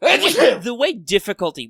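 A single sharp sneeze bursts out at the start, close and loud, followed immediately by someone talking.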